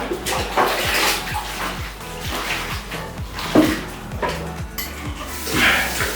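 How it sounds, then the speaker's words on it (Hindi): Water runs from a tap in a household setting, a steady rushing wash with clinks of pots and utensils and brief knocks scattered through it, fairly close. "हाँ तो अब पानी और ऑन किया है।"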